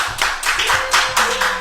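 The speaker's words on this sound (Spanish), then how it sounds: "Claro que sí, un aplauso, Marcelo, muchas gracias." Audience applause at a live stage event, a burst of steady, dense clapping heard up close for under two seconds with no talk over it.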